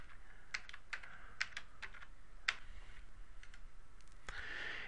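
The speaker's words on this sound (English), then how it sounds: "I'll go to the hex and just type in a gray color" Someone types on a computer keyboard close by: a quick, uneven run of a dozen or so crisp key clicks, entering a short hex color code, with no voices.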